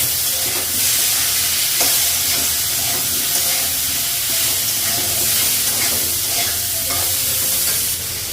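Tomato with cumin powder and salt sizzles and hisses steadily in a frying pan, with stirring scrapes and small crackles running throughout at close range and an even, fairly loud level.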